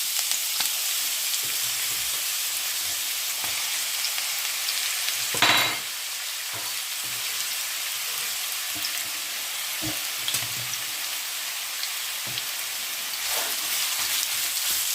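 Finely sliced onions sizzle in olive oil over low-medium heat, producing a constant close hiss with faint clicks and one louder scrape of stirring in the pan.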